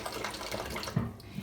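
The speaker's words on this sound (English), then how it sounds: "We can wash our vegetables over a bucket that collects all of the water after we're done washing our vegetables." Tap water runs steadily as vegetables are washed over a bucket that collects the runoff, a continuous close splashing flow with a brief louder surge near the end.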